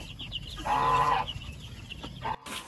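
Young chicks on a farm, around 15 days old and eating chick starter, cluck and peep up close, one steady call standing out over a busy background of small chirps.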